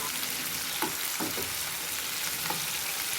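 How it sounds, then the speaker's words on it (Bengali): Tomato with salt frying in oil in a pan, a soft, fairly quiet sizzle with a few faint stirring scrapes and a sharp knock at the very end. "লবণটা দিয়ে টমেটোটা আরও ভালো করে ভেজে নেব যাতে টমেটোটা একটু ভাজা ভাজা হয়ে যায়"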